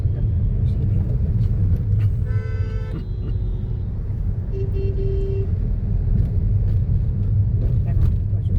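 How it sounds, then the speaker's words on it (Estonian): Busy road traffic in India, with a steady low rumble of cars and engines and a couple of short horn toots near the middle, with faint voices underneath. "Seda liiklust."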